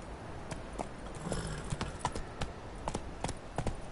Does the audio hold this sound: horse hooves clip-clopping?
yes